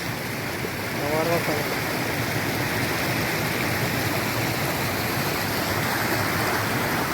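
Water flowing down from a hillside stream near Bhivapur Lake in Amravati, a steady broadband rush that holds evenly throughout at close range, with a brief voice-like texture early on.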